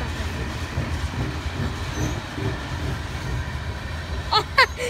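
A Norfolk Southern freight train led by three BNSF locomotives passes at Cove, Pennsylvania, with a steady rolling rumble and rail clatter, then a couple of sharp wheel squeals near the end.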